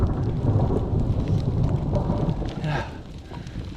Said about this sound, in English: The thunder's been pretty frequent.